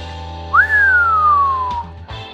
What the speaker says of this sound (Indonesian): Wiro Sableng keluarkan siulan nyaring.